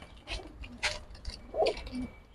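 Soft coos of young Sabchila pigeons sound in a few short bursts among faint rustling and shuffling, close and fairly quiet.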